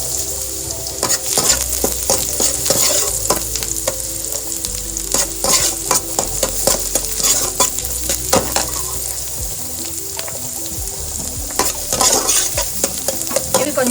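Onions sizzling in butter with garlic and green chillies, a steady loud fry broken by frequent scraping stirs of a spoon against the pan.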